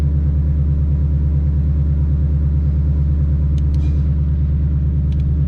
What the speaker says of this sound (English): I've already started the car prior and warmed it up just a little bit